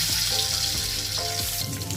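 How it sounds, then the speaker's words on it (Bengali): Eggs frying in hot oil in a pan (kadai) give a steady, dense sizzle with small crackles throughout, close and unbroken, with no voices. "ডিমটা ভাজা হয়ে গেছে"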